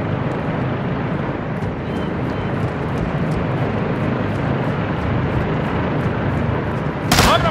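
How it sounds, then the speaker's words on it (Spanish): Helicopter in the Call of Duty Modern Warfare 2 video game, a steady loud rotor drone with rhythmic blade thumps amid dense rumbling noise, ending with a brief sharp burst. "Viene un helicóptero"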